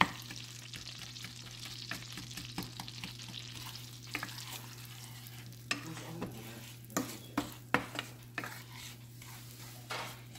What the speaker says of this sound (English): Just gonna break in the brown sugar.